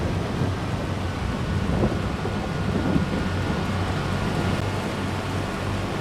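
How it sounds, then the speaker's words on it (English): Steady rain falls over an open field during a sunflower harvest, a dense, even hiss with a low rumble throughout and no voices. "all of a sudden I see the raindrops falling, and it's like, oh no, it's raining again"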